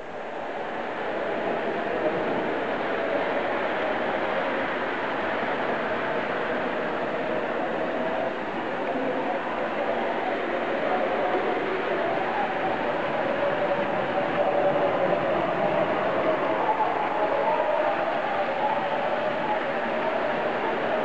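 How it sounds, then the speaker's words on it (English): A model freight train runs steadily along a layout's main line, a continuous rolling rumble with wheel and motor hum that holds at an even, fairly close level throughout, no voices. "Now I'm going to bring my freight train back out."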